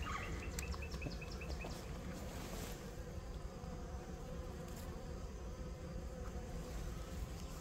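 Honey bees buzzing steadily from an opened hive, a dense close hum with occasional faint higher tones and clicks, no talking.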